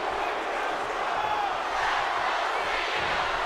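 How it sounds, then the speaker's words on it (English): A wrestling arena crowd in WWE 2K17, set in Philadelphia, roars and chants in a constant, loud, reverberant wash with no break. "Listen to this crowd."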